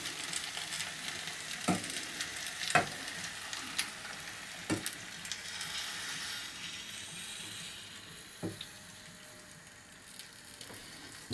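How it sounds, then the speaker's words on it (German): Steady hiss of cream poured into a hot pan with kohlrabi and potatoes, sizzling, with a few sharp clicks and clinks scattered throughout, moderately quiet. "jetzt gieße ich das vorsichtig mit der Sahne auf"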